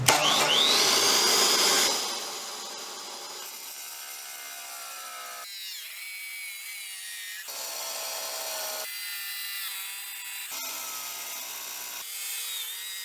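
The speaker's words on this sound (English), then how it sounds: "Two quick cuts, rip hard porcelain as well as miter cut hard porcelain." New Dewalt D24000 wet tile saw ripping hard porcelain, a loud high-pitched motor whine with rising blade squeal as the cut begins, then a steadier grinding hum that shifts in pitch as the cut goes on, no talk.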